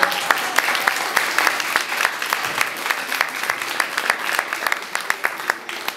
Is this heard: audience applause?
yes